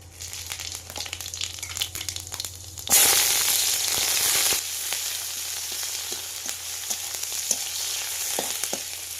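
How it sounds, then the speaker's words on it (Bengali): Five-spice tempering with chopped onion, garlic and chilli hitting hot oil, a loud hissing sizzle bursting in partway through, then settling into steady frying crackle with occasional stirring clinks. "কেটে রাখা পেঁয়াজ কুচি, রসুন কুচি, লঙ্কা কুচি এগুলোও দিয়ে দেবো। প্রথমে 5 ফোড়ন দিয়ে দেবো।"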